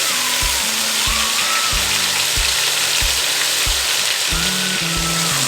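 A butter-seared ribeye steak sizzles loudly and steadily in a hot pan, a dense unbroken hiss that runs throughout, with low thudding tones recurring underneath at an irregular pace.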